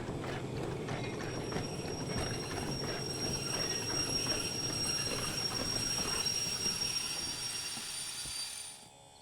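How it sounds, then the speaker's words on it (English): A steam locomotive brakes on rails in the train game Derail Valley, giving a loud, steady grinding and ratcheting mechanical clatter that runs throughout and drops off sharply at the very end. "Go ahead and apply the train brake."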